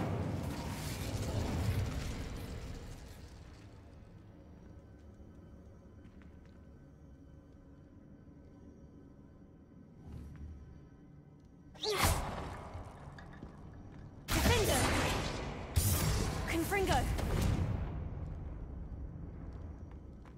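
A fire spell is cast in the Hogwarts Legacy video game, giving a sudden whooshing flare of flame and then two more loud roaring bursts, each lasting a second or two, over a low background rumble.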